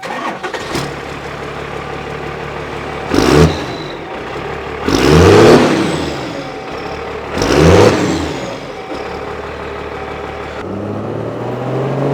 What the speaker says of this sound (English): The Cummins has like the snappiest pop when it fires up, so check this thing out.